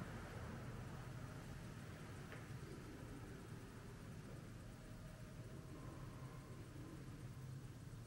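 Steady low rumble of road traffic outside an abandoned care home, distant and continuous, with no voices.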